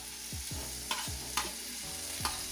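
Two tomatoes frying in a mustard gourd prawn curry, with steady close sizzling and several distinct scraping stirs of a spatula against the pan, no voices.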